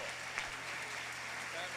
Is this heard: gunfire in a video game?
no